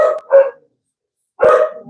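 Dogs bark at something in a backyard, heard close and loud as two quick barks, a pause, then a third sharper bark.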